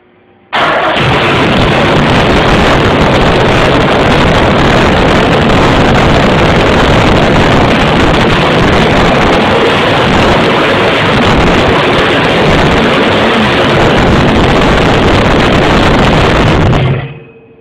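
A jerry-rigged engine roars to life for its first start and runs very loud and rough for about sixteen seconds. The noise is a dense, steady blast close to the microphone before it cuts off abruptly.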